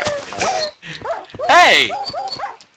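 Minecraft dogs barking, yipping and whimpering in a video game, several short sharp yelps and whines in a rapid cluster, close and fairly loud, with a person's brief shout among them.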